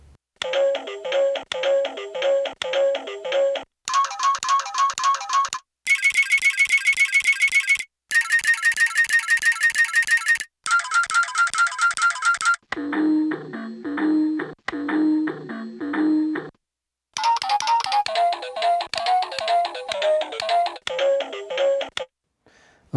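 Looped samples on a Casio LK-240 sampling keyboard repeat in quick stuttering bursts, shifting between low and high pitched blocks with brief gaps between sections, loud and close, no voices.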